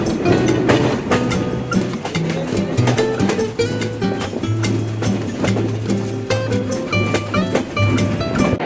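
The Rupsha Express runs on toward Natore after leaving Ishwardi Junction with a fresh locomotive, heard as a loud, steady rolling clatter with rhythmic rail knocks and brief tonal squeals. A voice is briefly audible over it.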